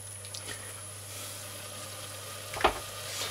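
Tomato paste fries in a pot with chicken broth and clarified butter, giving a steady, soft sizzle with one brief louder clatter partway through; no voices.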